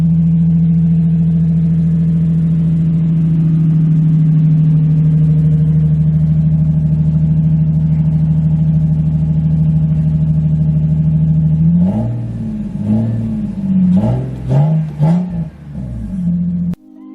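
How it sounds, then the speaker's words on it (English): A Lexus IS300 that has been sitting idles with a steady low engine hum, then gets several sharp revs in quick succession, each rising and falling back to idle, heard close and loud. "The car's been sitting for a minute. Let's see how she sounds."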